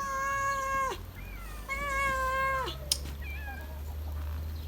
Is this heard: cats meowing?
yes